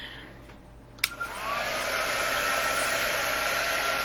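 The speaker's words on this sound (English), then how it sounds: "let me just hit this with the dryer." A hair dryer switches on after a soft knock and blows steadily, loud and close, over a painted wooden snowman porch leaner, with no talking.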